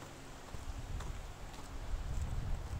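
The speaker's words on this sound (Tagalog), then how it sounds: "Narinig nyo ba yung hangin, guys?" Steady wind gusting and buffeting the microphone outdoors in Zakopane, Poland, growing slightly stronger toward the end, with no talking.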